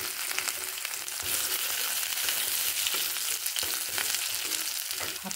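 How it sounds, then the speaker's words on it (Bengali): Nigella seeds and dried red chillies sizzle in hot oil as a tempering, a loud, steady crackling fry with small pops running throughout, close up and with no talk over it. "এবার এখানে কালো জিরে আর শুকনো লঙ্কা ফোড়ন দিয়ে দিচ্ছি"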